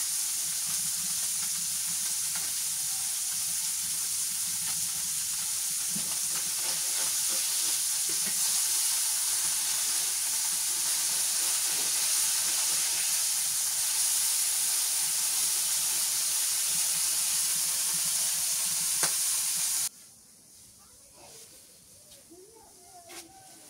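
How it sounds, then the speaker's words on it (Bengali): River fish fry until crisp in hot oil, giving a loud, steady, close sizzle that hisses without pause for about twenty seconds. The sizzle then cuts off abruptly, leaving quieter background sounds. "কত সুন্দর করে মাছটা করকরা করে ভেজে নিলাম।"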